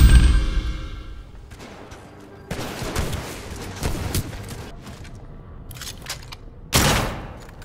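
Shotguns fire in a 2016 first-person shooter video game, several loud separate blasts spaced a second or so apart, each with a booming decay and reload clatter between.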